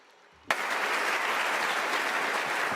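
Audience applause breaks out suddenly at a scientific congress session on HIV care, a dense, steady burst of clapping that stays loud and even after a quiet start.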